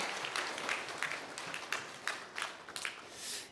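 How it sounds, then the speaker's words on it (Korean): A Korean church congregation claps briefly during a worship service, a faint, distant patter of hands rising and falling in uneven bursts. "박수 한번 쳐주십시오"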